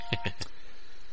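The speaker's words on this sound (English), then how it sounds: "was my phone. Sorry." Mobile phone notification chime: three short, bright electronic tones in quick succession, close and clear, then quiet.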